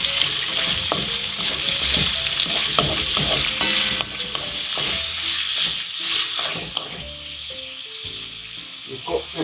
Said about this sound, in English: Then we're going to put in our bacon. Just to brown off our bacon.